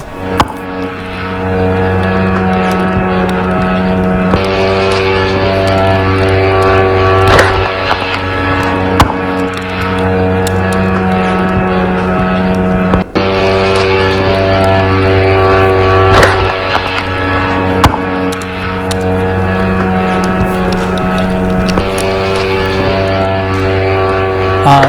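Attack drones in a massive Ukrainian strike on Russia fly overhead, producing a loud, continuous, droning propeller buzz that holds steady throughout with slight swells in intensity.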